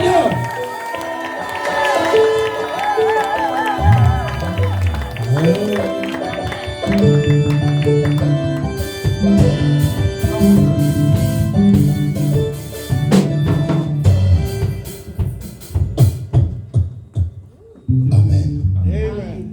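A church congregation cheers and acclaims the Lord as a man of God approaches, a loud, sustained swell of crowd voices, shouts and whoops over music, rising and falling in waves for the whole stretch.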